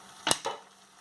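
A lid set onto a chicken sausage cassoulet pot, two quick close clanks in succession, then quiet.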